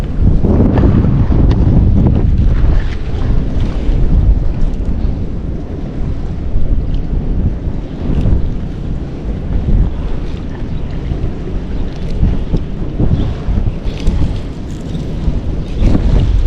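Strong wind roars and buffets the microphone continuously at a fishpond, with a low rumble and what sounds like water sloshing underneath, no voices.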